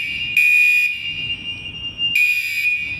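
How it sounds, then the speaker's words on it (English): A fire alarm going off in a venue during setup for a two-day hybrid event, two loud bursts of piercing electronic tone about two seconds apart with a quieter steady tone between them, no voices. "the fire alarms would go off twice during this 2-day event"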